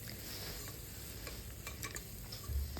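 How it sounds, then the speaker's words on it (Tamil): Onion and tomato sautéing in a pan for Saravana Bhavan-style sambar, a soft, steady sizzle with faint stirring scrapes throughout, alone without talk. "வதங்கினதுக்கப்புறம் 2 தக்காளி அதையும் சேர்த்து கொஞ்சம் நல்லா வதக்கணும்"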